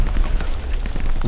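Frag grenade blast in the World War II shooter Hell Let Loose, a loud, rumbling low boom that carries through the whole moment with a few crackling pops scattered over it.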